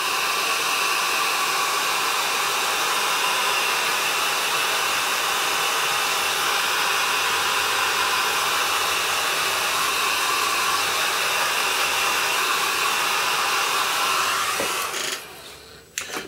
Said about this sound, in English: you can actually use a hairdryer or similar